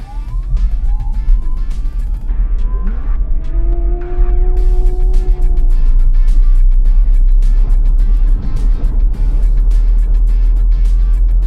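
A VinFast VF5 electric car accelerating hard from a standstill in a 0-100 km/h test with traction control off, a steady whine rising in pitch over a loud continuous road and wind rumble, no talking.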